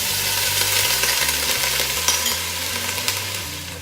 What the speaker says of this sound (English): I'm going to saute the onions in some grapeseed oil